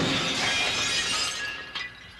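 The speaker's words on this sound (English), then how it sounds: "It was glass crashing." Glass crashes and shatters close by, a bright burst of breaking followed by tinkling fragments that fade out over a couple of seconds, with no talking.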